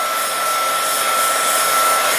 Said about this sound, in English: just do a little bit of a extra little heat gun there